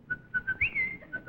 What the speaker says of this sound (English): when you're hunting, you have to have a return whistle